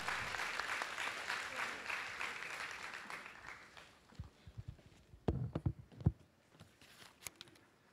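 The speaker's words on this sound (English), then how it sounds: "please give yourself a big round of applause" Applause from an audience at a 2013 culminating event, a dense clatter of clapping that thins out after a few seconds, leaving scattered claps and a few knocks and footsteps.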